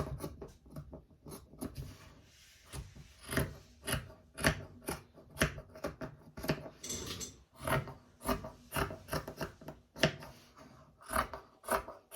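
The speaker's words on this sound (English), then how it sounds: "we're just going to snip up to that line, about every inch or so" Scissors snipping into fleece fabric for a kids' hat, a close, quiet series of crisp rasping cuts repeating in an uneven rhythm about once or twice a second, with no talk.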